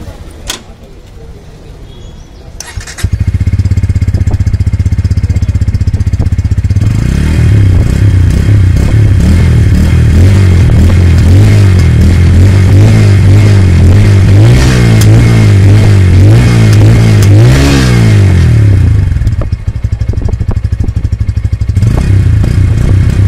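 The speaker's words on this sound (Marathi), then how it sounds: "चलाच आपण एक्झॉस्ट नोट ऐकून घेऊया" A 2024 Bajaj Pulsar 150 N motorcycle engine starts and idles, then revs repeatedly in rising and falling surges, the deep exhaust note loud and close before settling back to idle.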